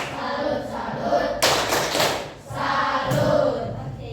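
A primary-school class gives rhythmic chant-style salute applause, a burst of clapping and thumping hands from many children in a classroom, set among a teacher's talk and children's voices.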